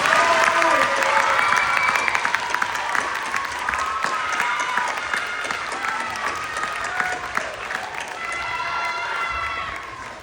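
Steady applause from a spelling bee audience, a dense wash of clapping with cheers and children's shouts over it, holding strong for about ten seconds before easing slightly at the end.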